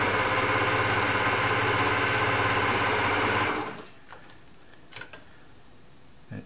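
An Elna Air Electronic TSP sewing machine stitching at a steady fast whir for several seconds, then stopping, leaving a few faint clicks and handling noises.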